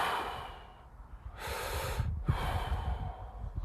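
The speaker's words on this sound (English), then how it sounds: "Belly breathing is perfect." Slow belly breathing demonstrated up close: a long exhale, then two deep, airy nasal inhales separated by a short pause, loud and close with no talking.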